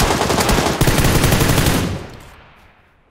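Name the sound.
M249 machine gun firing in video game PUBG Lite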